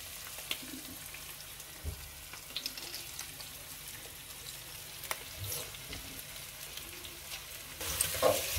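Tomato paste fries in a pot for a beef stew, with a steady soft sizzle and occasional sharp clicks from stirring, faint and close, without talk.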